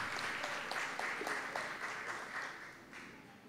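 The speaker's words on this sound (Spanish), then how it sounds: "El aplauso para ellos." A small neighborhood gathering at a prize raffle claps together, with distinct individual claps audible in a moderate, fairly even burst of applause.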